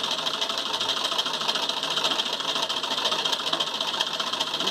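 An old sewing machine runs steadily and close by, a continuous rattling mechanical whir with no pauses.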